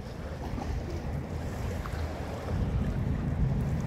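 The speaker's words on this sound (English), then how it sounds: "So we're going to enjoy the waves, we're going to enjoy the sun." Ocean waves rolling onto a shore on a sunny day: a continuous low roar mixed with wind buffeting, swelling louder about halfway through, with no talking.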